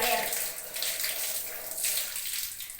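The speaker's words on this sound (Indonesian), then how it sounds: "Pertama, basahi tangan di bawah air mengalir." Tap water runs steadily over hands being washed under a faucet, a continuous bright hissing splash with small fluctuations and no clear talk.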